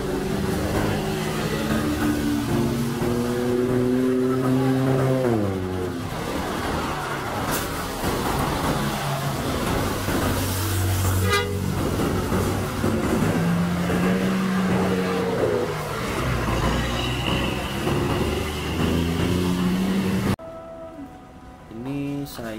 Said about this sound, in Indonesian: Nah ini ada bis Karunia Bakti tujuan Sukabumi, Garut, Singaparna